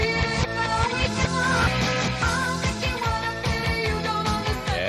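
A pop record plays forward over radio, a dense, punchy pop track with a driving beat and layered vocals at full broadcast volume, a few seconds long with no announcer talking over it.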